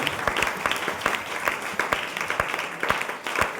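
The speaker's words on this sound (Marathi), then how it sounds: "जोरात टाळ्या वाजवतो" An audience claps in a hall, a lively burst of applause with uneven individual claps standing out, close and fairly loud, continuing for several seconds.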